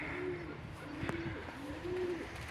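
Young Mikołajewskie high-flying pigeons coo softly at about six in the morning, with three low, drawn-out calls spaced across a steady background hum.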